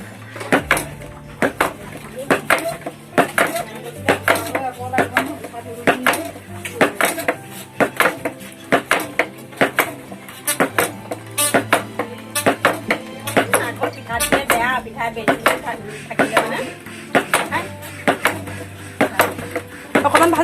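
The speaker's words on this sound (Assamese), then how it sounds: "মায়ে পিঠাগুড়ি চালিছে আৰু মই ৱেইট লছ কৰিবৰ কাৰণে ঢেঁকী দি আছোঁ।" A wooden foot-operated dhenki pounds rice into flour, giving repeated heavy knocking thuds at a steady rhythm, with clattering impacts close by and a low hum underneath.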